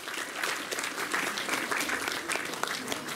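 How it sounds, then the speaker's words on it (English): An audience at Australia Zoo on the Sunshine Coast claps for a performing animal, a brief burst of steady applause from a small crowd, moderately distant and continuous. "You give him a clap as well, he's doing really well."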